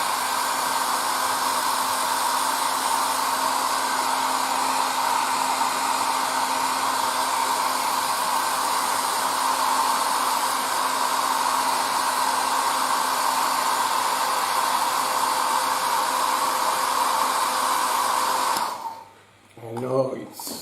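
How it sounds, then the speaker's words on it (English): A handheld hair dryer blows a steady, loud, close whoosh with a constant motor whine for about eighteen seconds, drying a thin first coat on a bench, then cuts off abruptly. "Now I grab my hair dryer."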